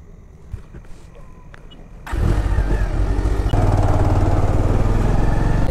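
A vehicle engine on a ride out of Sonarpur, West Bengal: a quiet stretch, then the engine abruptly roars into a loud, steady, close drone that grows heavier and holds.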